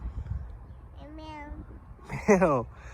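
A voice imitates a cat with two short meows, the second louder and higher, over faint background noise.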